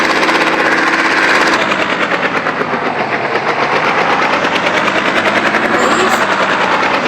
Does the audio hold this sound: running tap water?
no